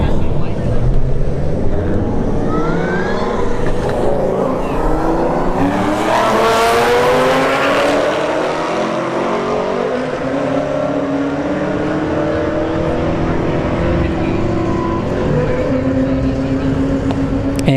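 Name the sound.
Camaro SS and Audi drag racing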